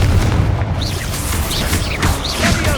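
Confringo spell blasts in Hogwarts Legacy, a few loud booming bursts over constant dense game noise.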